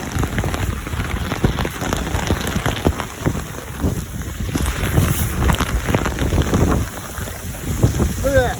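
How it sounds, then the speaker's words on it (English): Heavy rain pours down steadily, a dense continuous hiss of drops drumming on surfaces, with some wind buffeting the microphone. "Look, rain. Come down like a motherfucker."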